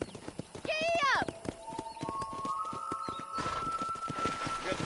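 A horse in the Red Dead Redemption video game gives a sharp whinny, then breaks into a run of steady, rhythmic hoofbeats, close and clear over a soft musical background.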